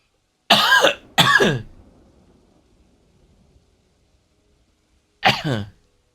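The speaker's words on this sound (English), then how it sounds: "Sorry if my coughing is very loud" Three loud, close coughs from one person: two quick harsh bursts, then a single cough a few seconds later after near silence.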